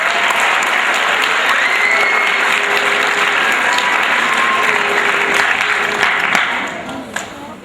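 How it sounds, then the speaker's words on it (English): A large crowd gives loud, sustained applause for the soccer teams at a state championship homecoming event, with dense clapping and some voices. It tapers off near the end. "They deserve a nice big round of applause as well."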